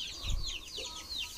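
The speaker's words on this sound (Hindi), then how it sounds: "देखो मुर्गा भी पाल के रखे हैं।" A rooster kept at a mud-walled house in a tribal village in India gives a few soft clucks and rising calls, faint and fairly close, with no talking.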